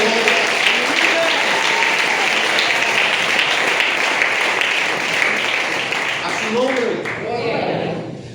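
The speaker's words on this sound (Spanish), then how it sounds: "Y ese aplauso fuerte a Dios." A church congregation bursts into loud, sustained applause filling the room throughout, fading slightly near the end as a voice begins speaking over it.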